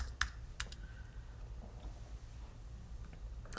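A computer mouse clicks in Cricut Design Space: a few sharp, close clicks at the start, a pause with quiet room tone, then another click at the end.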